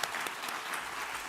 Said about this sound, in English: Give another round of applause for Sydney Clover.